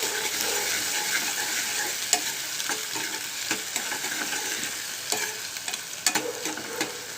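Onions sizzle steadily in a hot pan for a tomato and amaranth leaf curry, a continuous frying hiss broken by occasional stirring scrapes and small crackles, close and alone without talk.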